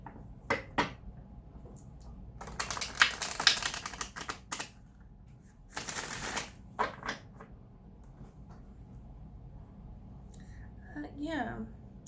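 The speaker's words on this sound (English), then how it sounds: "I'll just go ahead and start shuffling" Tarot cards are shuffled close up in bursts of crisp riffling and flicking, separated by quiet gaps, with a faint softer rustle near the end.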